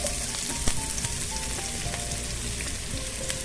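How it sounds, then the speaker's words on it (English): Garlic and chopped onions fry in olive oil with a steady, close sizzle that holds level throughout, with a few faint crackles and no talking. "we already have our olive oil, and then we will quickly add garlic, chopped onions,"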